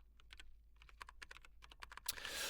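A computer keyboard clatters with quick, irregular bursts of key taps, close and faint, ending in a brief rustle, with no talking.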